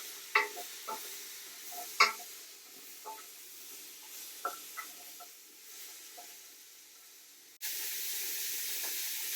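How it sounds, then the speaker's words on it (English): Diced turnip, leek and onion sweating in a pot, a quiet soft sizzle with scattered light stirring clicks and scrapes, then a steadier hiss rising near the end. "We're just going to let that sweat for about 10 minutes, let that soften up."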